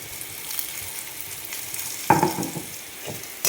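Ginger sautéing in a pan sizzles quietly and steadily, with a sharper burst of frying and stirring partway through and a brief clatter at the very end.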